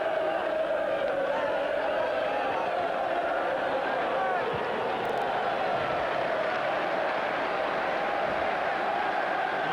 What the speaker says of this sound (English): Manchester United fans at that end rise to applaud the, well, brilliance is no other word, of Mr. Giggs.